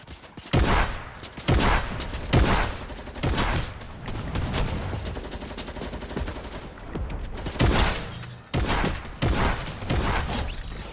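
Repeated bursts of shotgun-style gunfire from a spreading gun in the video game Fortnite, several loud close blasts spaced a second or so apart, with a sustained rattle of shots in between and no talk.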